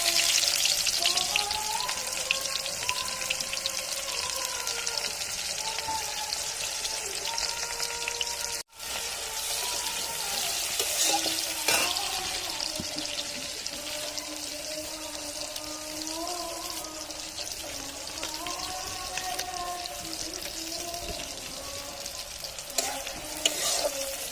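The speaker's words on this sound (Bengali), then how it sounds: "এবার আমি এর মধ্যে দিয়ে দিচ্ছি কুচুনো পেঁয়াজ" Chopped onion fries in hot oil in a wok after whole cumin seeds, giving a steady, close sizzling crackle with occasional stirring scrapes, continuous for the whole stretch apart from one brief dropout.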